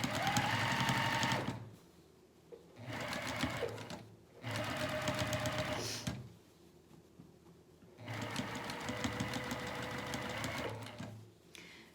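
Sewing machine stitching a pajama pant seam runs in three sustained bursts with short pauses between, a steady close mechanical whir and rapid needle chatter, with no talk over it.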